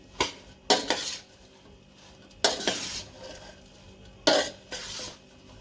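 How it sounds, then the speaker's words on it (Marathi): A spoon mixes salt into bhokar pickle in a metal vessel, producing three or four distinct bursts of clinking and scraping separated by quieter pauses. "आता हे मी सगळं मिक्स करून घेते"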